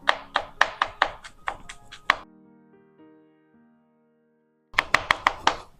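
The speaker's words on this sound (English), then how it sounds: "I recommend cutting this up fairly fine. You want to mince it." A knife mincing garlic on a cutting board, quick sharp taps in two bursts separated by a pause with a faint tonal hum, close and clear.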